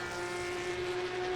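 A Porsche Cup race car in Assetto Corsa Competizione, rear engine, holds a steady high-revving drone with a strong sustained tone, loud and continuous without gear changes.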